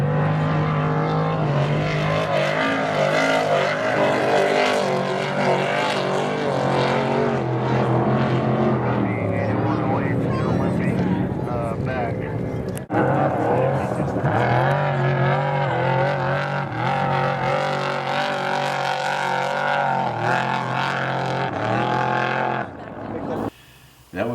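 Desert off-road race trucks in a Best in the Desert event roar past one after another in loud, sustained, shifting engine noise. The roar drops out briefly midway and fades near the end, with voices mixed in underneath.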